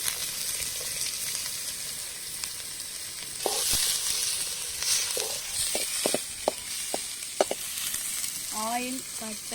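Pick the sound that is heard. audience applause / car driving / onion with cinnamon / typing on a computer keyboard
onion with cinnamon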